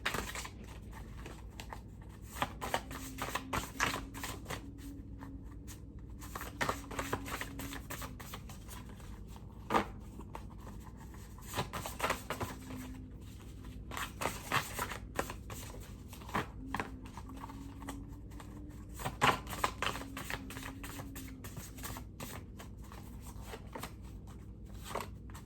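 Message cards for a card reading being shuffled in repeated soft riffling bursts, close and fairly quiet, with a low background hum throughout.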